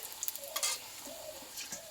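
Ginger frying in oil for a pea dal makes a soft, quiet sizzle with a few light stirring scrapes and taps over two seconds, with no talking.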